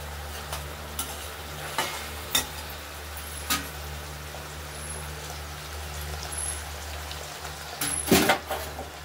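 Chicken curry with tomato and turmeric frying in a pan, a steady low sizzle under several sharp scrapes and clinks of a spoon stirring against the metal, with no talk.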